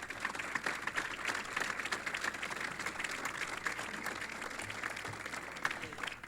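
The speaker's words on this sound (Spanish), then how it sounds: "Les pedimos un fuerte aplauso para todos ellos" An audience at a formal working-group installation ceremony applauds in a dense, steady wash of clapping that stays fairly even for several seconds, with no one speaking over it.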